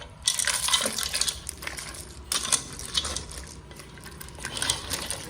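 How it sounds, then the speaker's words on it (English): Nigerian beans soup with shell-on periwinkle being stirred in a pot, giving close, continuous wet clattering and scraping with sharp ticks of shells knocking together. "I'm basically gonna stir it well"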